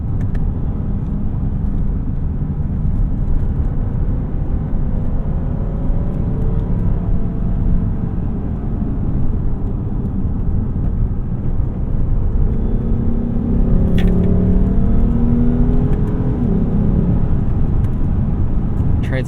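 A 2015 Lexus GS350 F Sport engine drones steadily with road rumble, the revs rising and swelling louder toward the end.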